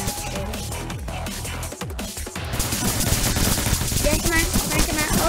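Gunfire in the video game Entry Point: dense, rapid bursts of automatic weapon fire and shots that grow louder and more continuous in the second half, with scattered impacts and clatter.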